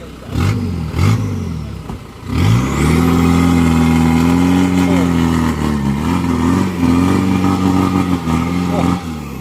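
A tow truck's engine revs hard and holds a steady, loud drone while it drags a crashed pork-selling truck out of a canal in the rain; the roar dips briefly near the start, then surges and stays strong throughout.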